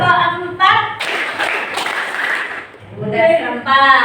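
Children in a classroom burst into a short flurry of clapping as part of a counted clap chant, the claps packed between stretches of an adult voice speaking before and after.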